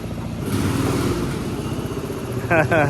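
Old Jeep engine rumbling as it is driven, a steady, fairly loud low throbbing drone with slight shifts in pitch, and people talking over it.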